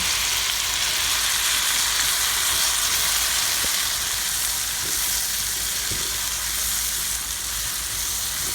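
Shrimp sautéing in a butter and garlic mixture for Vietnamese shrimp noodles, giving a steady, loud, broadband sizzle that holds evenly throughout with a few faint utensil taps, no voices.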